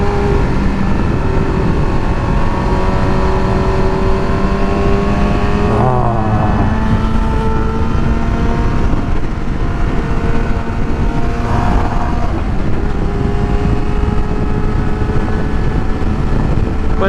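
A motorcycle rides along a road, its engine giving a loud, continuous drone with rising and falling pitch as it shifts through bends, steady from start to finish.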